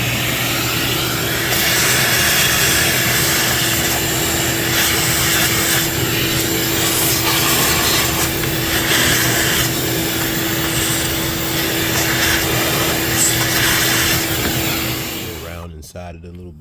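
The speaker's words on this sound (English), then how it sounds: "vacuum it out." A vacuum cleaner sucks dirt dauber debris out of a Honda EU3000is generator, a steady loud broadband whoosh with a constant hum that runs without a break and cuts off abruptly near the end.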